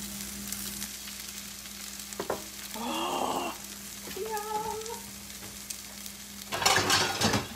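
Eggs frying in a breakfast skillet hiss with a steady low sizzle, broken by spatula scrapes and stirring and a louder burst of crackle near the end, heard up close without talking.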